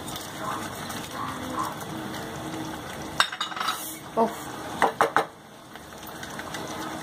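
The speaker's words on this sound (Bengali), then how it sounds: "এইবার ভালো করে এটা মিশিয়ে নিয়ে এর মধ্যে ভাজা পেঁয়াজ আগেই ভেজে রেখেছিলাম দিয়ে দিই" Spoon stirring fried onions into a paneer stuffing in a pan for stuffed pointed gourd, a soft continuous sizzle giving way to several sharp metallic scrapes and clinks against the pan, close and fairly loud.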